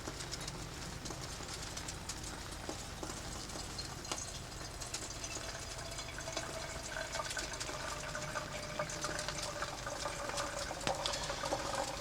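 Pine needle tea poured through a filter into a bottle, a steady close trickle of liquid running continuously under faint outdoor ambience with occasional birds.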